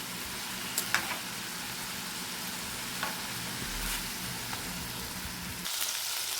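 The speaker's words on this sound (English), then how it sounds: "So you just have to turn around your chorizo." Chorizo sizzles steadily in a pan as it is turned, with occasional light scrapes and clicks from the utensil and a brighter burst of frying noise near the end.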